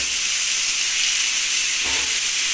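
Onions fry in a pan for a papaya and potato curry, a loud, close, continuous bright sizzle and hiss with no voices.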